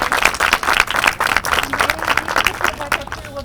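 Crowd at an award presentation clapping enthusiastically, loud and close with individual claps distinct, while cheering voices and chatter rise through the applause.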